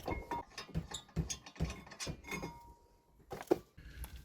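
A 17 mm socket works loose the brake carrier bolts on a Mazda MX5 NC. The metallic ratcheting and clattering of the tool run continuously at moderate level.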